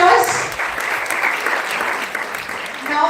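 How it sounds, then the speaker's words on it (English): A live audience applauds a group of contestants at a national oratory contest's group discussion round, steady full clapping filling the room for a few seconds. "let's have a big round of applause."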